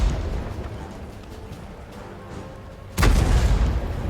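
In a tank video game, a tank gun fires once, partway through, as a sudden loud boom that rings out over a low rumbling engine and ambient battle noise.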